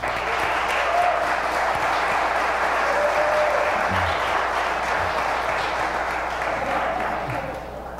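Audience applause in a church service, sustained clapping from a crowd filling the whole stretch and slowly thinning toward the end.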